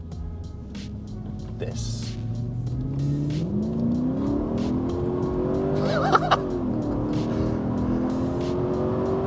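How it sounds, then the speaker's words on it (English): A Mercedes-Benz CLK500's naturally aspirated 5-litre M113 V8 pulls hard on the road, its engine note rising steadily in pitch and loudness with a brief tire chirp, while someone talks over it. "what you're hearing there is a 5-litre M113 Mercedes-Benz V8,"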